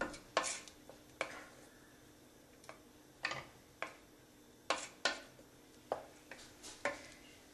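A spoon knocks and scrapes against a pot while a curry mixture with fenugreek powder is stirred, giving sharp irregular clinks and taps over a quiet background; no voices.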